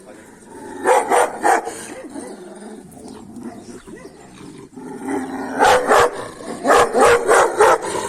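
A large Kangal dog barks loudly at close range in short clusters of deep, rhythmic woofs, pausing briefly before barking again.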